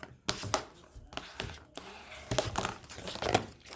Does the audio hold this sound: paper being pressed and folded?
yes